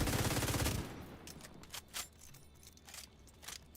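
A light machine gun fires in a sci-fi PVE shooter game, a loud rapid burst of shots up front, followed by scattered mechanical clicks and clatter at lower level.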